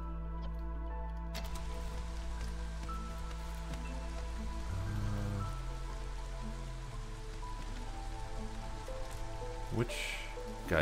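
Light drizzle falls in the video game Against the Storm, a soft continuous patter of rain under steady game music and scattered ticking interface sounds.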